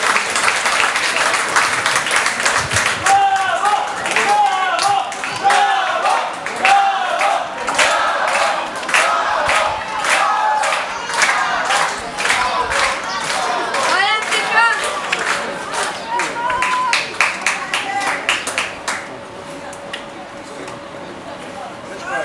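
Supporters in the stands at a youth football match between NK Bravo and MTK Budapest in Ljubljana clap and cheer steadily, a dense crowd din with rhythmic clapping and shouts throughout, easing slightly near the end.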